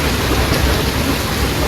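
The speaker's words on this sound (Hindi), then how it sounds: "नागपुर की बहुत तेज़ बारिश" Heavy rain pours down in Nagpur, a loud, dense, unbroken hiss with no breaks, close by and steady throughout.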